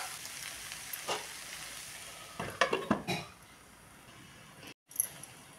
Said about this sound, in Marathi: गूळ विरघळून एकजीव होईपर्यंत हा सांजा मध्ये हलवत मी आता तयार करून घेते।